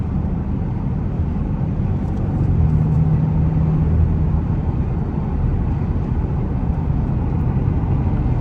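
A 2024 Ford Mustang EcoBoost drives with a loud, steady low engine drone and road rumble from inside the cabin, rising slightly as it accelerates, with no talking.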